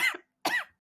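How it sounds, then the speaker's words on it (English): Two short, close coughs into a microphone from a woman taking part in a Super Mario 64 speedrunning race, separated by a brief pause, loud and alone with no talk. "could you possibly cough into the mic to prove you're sick?"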